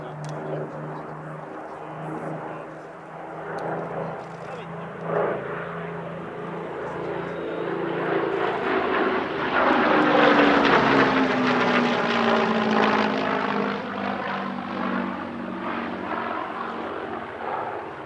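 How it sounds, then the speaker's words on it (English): Two propeller fighters, one a Spitfire Mark 5B, fly a restrained two-ship tail chase at an air festival. Their piston engines drone steadily, swelling to a louder pass mid-clip with a falling pitch as they sweep by, then easing off. "some Saturday footage, with the two fighters performing a relatively restrained two-ship tail chase."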